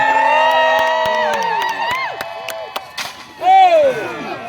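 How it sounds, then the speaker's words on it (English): At a medieval jousting festival, an announcer speaks loudly as a crowd cheers and whoops, with a brief louder burst of shouting near the end. "And the crowd goes wild!"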